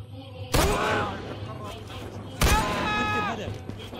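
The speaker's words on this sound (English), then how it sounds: "they want me to do some headshots with a sniper rifle" Two loud sniper rifle shots in the video game Fursan al-Aqsa, sharp booming cracks about two seconds apart, each followed by a ringing, fading tail.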